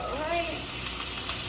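Leftover spaghetti sizzles and hisses in a hot pan as it is reheated and stirred, a close, steady crackling fry with faint voices in the background.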